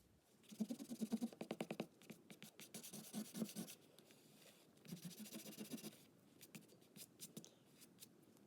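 Quick back-and-forth rubbing of an eraser over pencil lines on a watercolor lettering page, close and soft, coming in several scratchy bursts with short pauses between.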